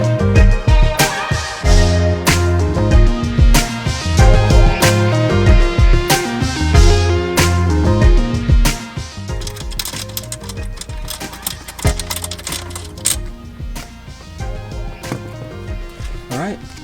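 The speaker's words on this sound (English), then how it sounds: "So just grab a 10mm socket, take that off." A ratcheting socket wrench backing a 10mm ground bolt off a Toyota Camry, with repeated close metallic clicks and clatter in quick bursts, slowing in the second half, alongside talking.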